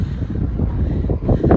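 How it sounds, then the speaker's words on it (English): Strong wind in Tenerife buffets the microphone with low, rumbling gusts that fluctuate continuously, loud and close, with no clear voices. "It's very windy."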